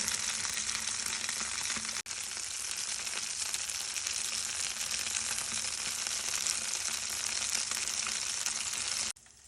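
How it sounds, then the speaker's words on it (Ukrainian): Steady, loud sizzling of perch frying on parchment in a hot pan, continuous crackle and hiss with a brief dip near the start and a cut at the end. "Обжарюю вже з другої сторони"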